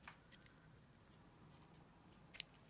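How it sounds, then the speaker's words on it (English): Scissors snip the yarn end of a crochet piece, a few faint, sharp clicks close by in a quiet room, with the last snip the loudest, and no talk. "Now I will cut this end"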